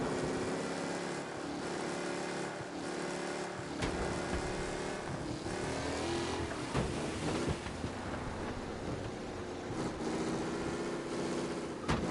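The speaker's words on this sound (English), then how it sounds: "Officers reporting a race car driving at speed through the city." A race car's continuous high-revving engine roars steadily throughout, with shifting pitch as it speeds through city streets in a video game, loud and close, with no voices.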